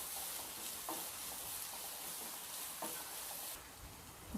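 Chopped vegetables and beans sauté in a pan for a vegetable cutlet mixture, a steady close sizzle with soft intermittent stirring scrapes throughout.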